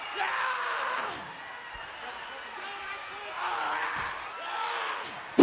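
A wrestler at WrestleMania 11, caught in a submission hold, bellows long wordless yells into a microphone, rising and falling in drawn-out bursts over faint arena crowd noise.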